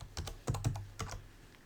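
Several crisp key presses on a Mac computer keyboard while a password is entered, spaced in small irregular clusters, close and clear, with no talking.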